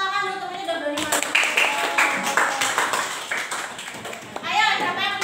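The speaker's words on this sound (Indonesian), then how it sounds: "ini beri tepuk tangan loh, temennya udah berani masuk." Students in a classroom clap for a classmate, a burst of quick claps from several hands that fades out, with a teacher and children talking over and around it.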